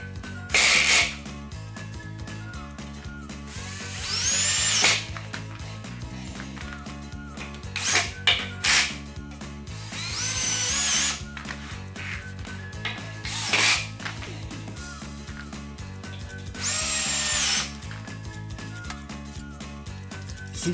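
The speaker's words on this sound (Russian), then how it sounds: "Сейчас можно ввернуть для прочности дополнительные саморезы." A power drill drives self-tapping screws into a wooden stair balustrade indoors, with several loud bursts of whirring and ratcheting spaced across the stretch and a steady hum between them.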